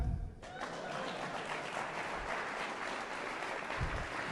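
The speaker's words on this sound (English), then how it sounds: "Oh, you can clap." A church audience claps steadily throughout, a dense continuous wash of applause after a pastor's sermon line, fairly close and sustained with no talking over it.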